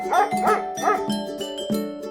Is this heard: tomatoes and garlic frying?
no